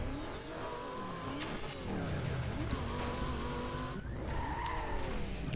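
Car in Need for Speed Most Wanted (2005) skids with tires squealing and the engine revving, loud and continuous across the whole stretch with gliding engine pitch and no talk.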